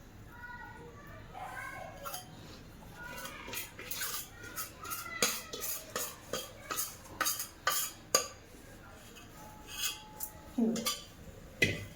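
A metal cooking pot is handled while measuring ragi flour, making a series of clear clinks, knocks and scrapes that grow more frequent. Voices talk quietly in the background.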